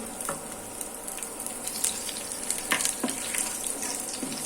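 Onion fries in oil in a pan with a loud, even hiss and crackle throughout. Occasional clicks of stirring sound close by, and no one speaks.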